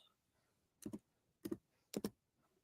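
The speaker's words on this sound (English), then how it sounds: "Oh, I can hear you typing." Three quick clusters of clicking keystrokes on a computer keyboard, close and fairly sharp, separated by short pauses in an otherwise quiet room.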